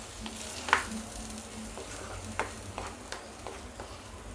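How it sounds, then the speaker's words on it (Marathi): Masala roasts in oil with a moderate, steady sizzle, broken by several sharp scraping clicks of stirring spaced through, heard up close with no voices. "आता आपल्याला चांगला भाजून घ्यायचं आहे."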